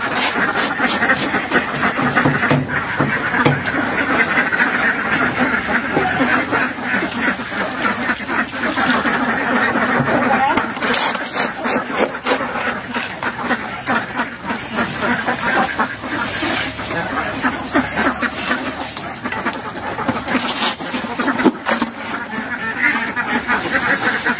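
Itik ducks on a duck farm: a dense, loud, continuous chorus of quacking and honking from a large flock, close by, with a voice faintly underneath.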